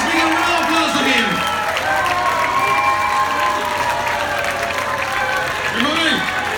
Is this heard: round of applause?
yes